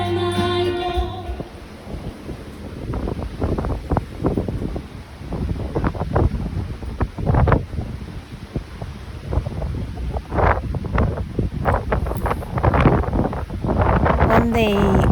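Steady wind buffets the microphone on the rear deck of a cruise ship under way to Tromsø, a constant broadband rush with gusty surges and low hull and water rumble underneath.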